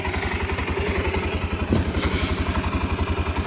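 A new 2018 Arctic Cat Alterra 700XT ATV engine runs cold at a steady idle nearby, with a rapid, even chugging pulse and some light mechanical clatter.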